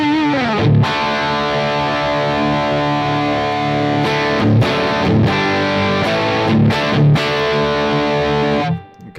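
Distorted electric guitar played through a Headrush MX5 with delay and reverb switched off: loud, thick sustained chords with a few short breaks, cutting off abruptly at the end.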